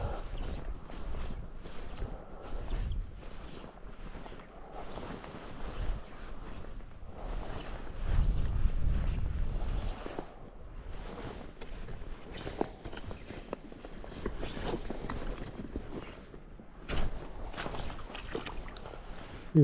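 Wind gusting across a loch shore during a fishing outing, a steady breezy rush with microphone buffeting and occasional louder gusts, heard alone without talk.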